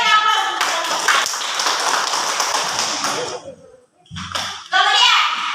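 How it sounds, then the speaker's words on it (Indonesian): Students in a classroom applaud a small group, a dense burst of clapping with children's voices mixed in, fading out briefly before a few more voices and claps. "Berikan aplaus untuk kelompok 1."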